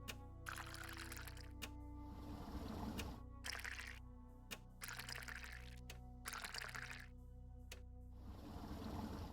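In the Nancy Drew game, hydrofluoric acid pours in several gushing bursts, each a few seconds long and split by short gaps, over a low steady background hum.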